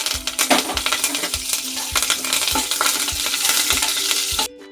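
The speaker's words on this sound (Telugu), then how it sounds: "అదే కళాయిలో కొంచెం ఆయిల్ వేసుకొని శనగపప్పు అయితే వేసుకోవాలండి" Chana dal and curry leaves frying in a little oil in a kadai for tempering, a steady loud sizzle with regular clinks of a spoon stirring against the pan, ending abruptly.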